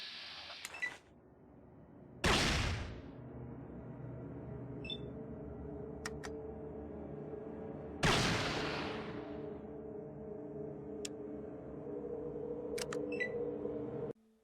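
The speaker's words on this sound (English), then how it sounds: "the iconic sound you hear when using VATS" Fallout 3 VATS targeting sound effect: two loud whooshing bursts about six seconds apart, each followed by a sustained low mechanical hum, with faint high electronic clicks and beeps in between.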